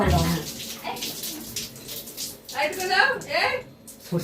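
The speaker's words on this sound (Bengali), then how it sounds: "আমি জল দিচ্ছি" Water poured into a pot while cooking at home, a splashing, running pour in short bursts under and between people talking nearby.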